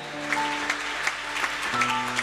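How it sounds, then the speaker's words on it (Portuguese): A church congregation claps steadily together, a dense patter of applause over a sustained organ-like tone in a large room. "Aplauda ao Senhor Jesus Cristo."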